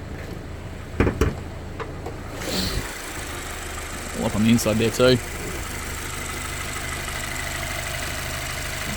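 A 2020 Subaru Forester 2.5-litre four-cylinder engine idles steadily in the background under the open bonnet, a low continuous hum while someone talks briefly and a few clicks and thumps occur.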